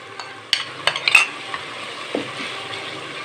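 Whisked yogurt cooks into a peas and potato curry in a pot, with a soft sizzle under a few sharp clinks and scrapes of a spoon against the pan.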